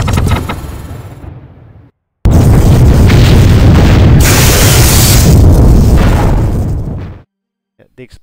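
A mech blows up in the pixel-art video game PixelMek with a loud, booming explosion that roars on for several seconds before cutting off. A shorter blast comes just before it, and a few faint pops follow.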